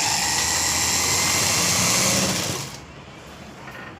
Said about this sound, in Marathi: आपल्याला अशी सरळ शिलाई याच्यावरती मारून घ्यायची आहे बघा